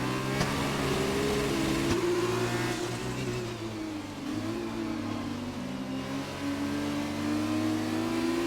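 Formula 2 race cars in an Xbox racing game at a Hungary circuit, their engines droning in a steady, high-pitched whine with shifting revs as the cars push for an overtake, with no talk.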